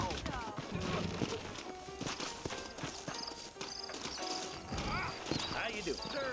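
Horse hooves clip-clop along a trail in the Red Dead Redemption video game, with neighs and whinnies rising over steady galloping, close and fairly loud, while voices talk throughout.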